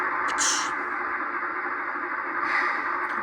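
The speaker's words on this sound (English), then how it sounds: "You should hear the air brakes." Air brakes on a Maxitrak Planet 2 7 1/4 inch gauge model locomotive sound system: two short hissing releases of air, one near the start and one near the end, over a steady electronic hum.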